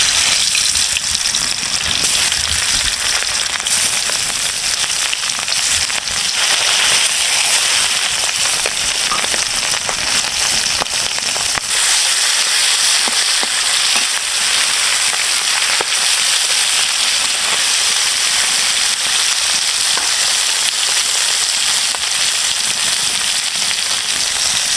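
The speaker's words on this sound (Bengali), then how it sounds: "তেল গরম হয়ে গেছে, এখন এই মাছগুলো ভেজে নেব।" Fish frying in hot oil in a home kitchen, a loud steady sizzle and crackle that runs unbroken for the whole stretch with no talking.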